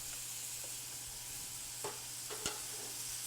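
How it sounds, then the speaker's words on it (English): Apple cider cooks down in a pan with a soft, steady simmering sizzle, faint and even, broken by two brief light clinks of a utensil. "Let that cider cook down for just a minute."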